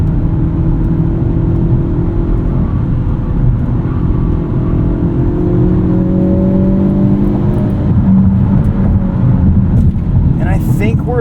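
A 2024 Hyundai Elantra N's engine drones steadily from inside the cabin, with rising and falling exhaust tones as it drives and shifts through a six-speed manual, faint talk beneath.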